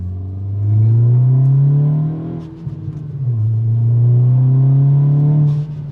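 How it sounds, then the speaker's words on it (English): A 2023 Acura Integra A-Spec with a 3-inch stainless DC Sports catback exhaust revs up twice, each deep, throaty rise holding a low rumbling drone before easing off. Loud and close. "It's deep exhaust sound though. Very deep."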